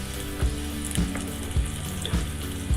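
Onions fry and brown in a pan for chicken jalfrezi, a close, bubbling sizzle broken by regular dull knocks from stirring about every half second.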